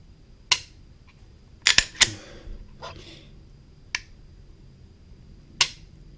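Sharp mechanical trigger reset clicks from a Springfield XD 45 pistol fitted with an aftermarket trigger, several crisp close snaps scattered irregularly with a quick double click in the middle, over a quiet background.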